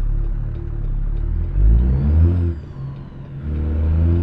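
A 1947 pickup truck engine in American Truck Simulator idles and revs steadily, its low rumble rising and falling through a brief acceleration before settling back to a droning idle.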